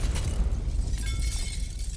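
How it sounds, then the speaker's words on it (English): A tremendous explosion blows a door off its hinges in the video game 428: Shibuya Scramble, a loud broadband rumbling blast with crackling, shattering debris that stays dense and sustained for two seconds. "the door that was in front of him was blown off its hinges with a tremendous explosion"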